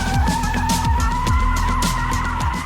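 A BMW M5 drifting on a drift pad squeals its Vredestein tires continuously as the engine roars loud and close, with no talking over it.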